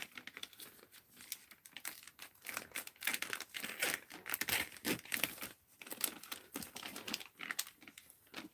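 Scissors cutting out a paper fragile tag for an art journal, with steady crinkling, snipping and rustling of paper close up, irregular in rhythm and continuing throughout.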